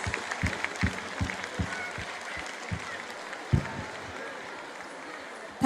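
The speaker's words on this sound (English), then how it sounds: "give a big round of applause for this beautiful song and that melodious voice" School audience at a cultural programme applauding after a song, scattered individual claps over a steady crowd murmur, fairly distant and moderate, thinning out toward the end.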